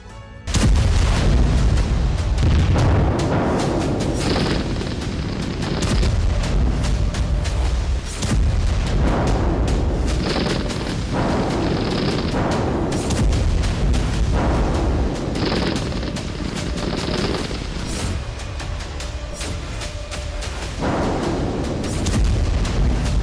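Bombing explosions from news footage in Gaza land as a run of heavy, loud booms, one after another every few seconds, each followed by a rumbling roll.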